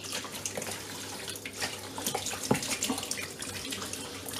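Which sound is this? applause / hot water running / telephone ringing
hot water running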